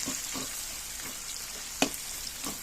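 Onions sizzling quietly in a pan as they are stirred, a soft continuous fry with faint periodic scrapes and one sharp clink near the end, close but low in level.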